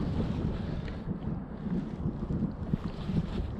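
Strong wind blows across a lake while fishing from a boat, making a steady low rumbling buffet of wind noise with water lapping against the hull, continuous and fairly loud throughout.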